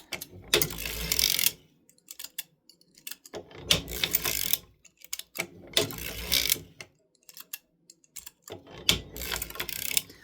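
Hand-cranked circular sock knitting machine knitting a short scrappy sock, its clattering ratcheting mechanism rising in four loud bursts separated by near-silent pauses, close to the microphone.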